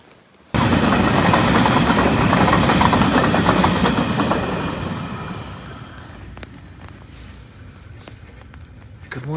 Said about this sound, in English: We just had a train go by.